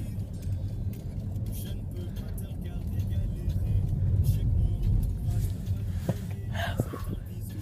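Inside a moving car, a low engine and road rumble drones steadily, swelling slightly midway, while a few faint clicks and knocks sound near the end.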